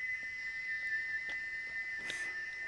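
Steam locomotive whistle sound effect: a steady, piercing high tone held throughout, loud and near, with a brief brighter burst of air near the end and no voices.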